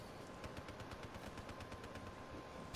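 Sentry gun in the video game Black Ops 3 firing a sustained automatic burst of rapid, evenly spaced shots, loud and close, with steady mechanical gunfire filling the whole stretch and no talking.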